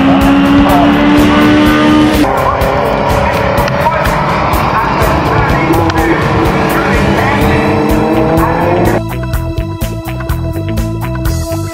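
Race cars run flat out only a couple of feet apart on a track, their engines roaring loudly and continuously up close with tire squeal and shifting engine pitch as the pack passes.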